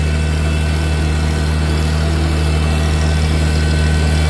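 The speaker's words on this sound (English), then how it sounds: "I let the tractor idle the whole time I was shoveling the coop out." A steady, low tractor engine idles without pause, a continuous rumbling drone with a faint vibrating hum and no voices.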